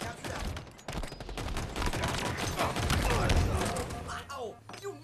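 Rapid gunfire bursts crackle through a multiplayer shooter match, dense and sustained for several seconds, overlapping with players' voices.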